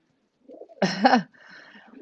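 A racing pigeon coos once with a soft, throaty call, close by and fairly clear, followed by faint low background murmur.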